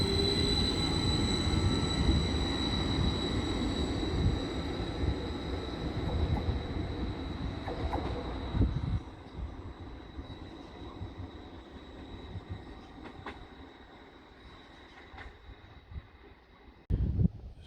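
A train rumbles loudly past Westerfield station in Suffolk, heading toward Felixstowe, wheels squealing with a steady high tone, then the noise fades as it moves away, followed by a brief clatter.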